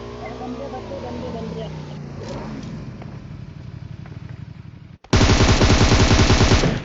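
PUBG gunfight, starting with engine and vehicle noise under a voice, then a loud, close burst of rapid automatic gunfire in the last seconds.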